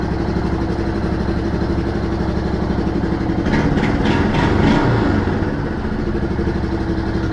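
A Yamaha Big Bear 350 ATV engine idles steadily after a carburettor clean, with the fuel turned off so it runs out. The even, rumbling mid-range run stays close and continuous, swelling slightly partway through, with no voices.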